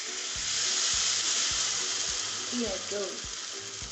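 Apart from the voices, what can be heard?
pancake sizzling in butter in a pan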